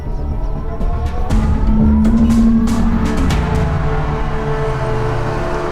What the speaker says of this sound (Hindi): अरे क्या हुआ, गाड़ी वाड़ी क्यों रोकी?